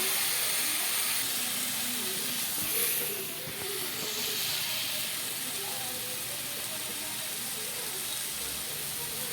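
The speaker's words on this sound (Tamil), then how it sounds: "உப்பு போட்டு நல்லா வணக்கிக்கலாம்" Mango pieces sautéed with salt in a pan for mango kuzhambu give a steady, close hiss and sizzle that holds evenly throughout with slight swells.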